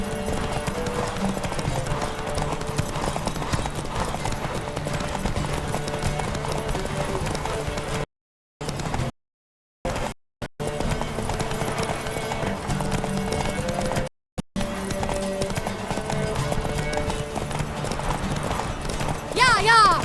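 Horse galloping in the video game The Witcher 3, a steady rhythmic clip-clop of hooves that runs throughout over game sounds, with a few brief dropouts and a person talking over it.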